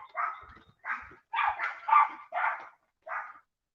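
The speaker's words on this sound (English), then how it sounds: "Let me shut these dogs up." Several dogs bark in a quick series of about seven sharp barks, moderately close indoors, with no talk over them.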